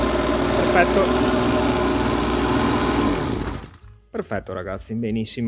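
An Oleo Mac BV300 leaf blower's small two-stroke engine runs steadily and loud at close range after a primer bulb replacement, then cuts off partway through, followed by someone speaking in Italian.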